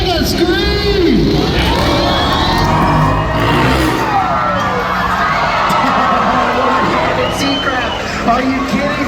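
A loud crowd at a freestyle motocross show at the Arizona State Fair cheers, whoops and screams continuously, with children's shrieks and a babble of voices filling the arena.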